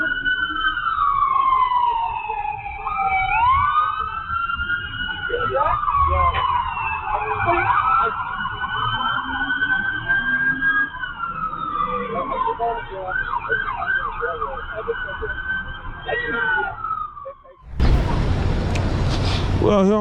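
Several police car sirens wail and yelp together during a pursuit, their pitch rising and falling continuously over about seventeen seconds before a sudden burst of broadband noise cuts in near the end.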